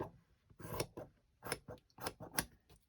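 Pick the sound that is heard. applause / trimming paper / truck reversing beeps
trimming paper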